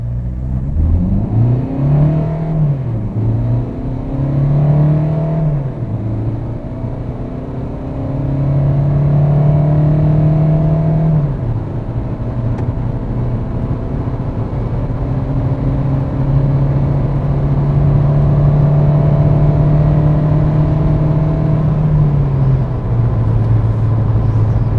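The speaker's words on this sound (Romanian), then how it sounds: "Zero-100 în modul manual, voi lăsa cutia să schimbe singură." A Dacia Duster 1.5 dCi with EDC automatic gearbox accelerates hard from 0 to 100, its diesel drone climbing steadily and dropping at several distinct automatic gear changes before rising again, heard close with no speech.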